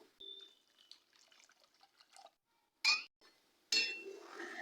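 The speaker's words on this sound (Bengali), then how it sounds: "এবার এর মধ্যে আমি জল দিয়ে দিচ্ছি আরও একটু সামান্য জল দিয়ে দেবো" Water is poured into a cooking pan in two short splashing bursts, the second longer, amid faint clinks of utensils in a quiet kitchen.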